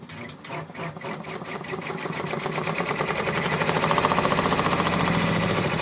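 An embroidery machine stitches the green section of an OESD freestanding pumpkin quilt block, its rapid needle rhythm starting up and growing steadier and louder as it runs continuously and close by.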